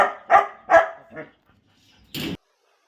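Puppy barking during an obedience training session: three sharp yaps, then a weaker fourth, a pause, and one louder, longer bark close to the microphone.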